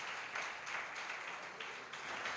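A church congregation applauds, a faint, even wash of clapping heard from a distance and holding steady for a couple of seconds.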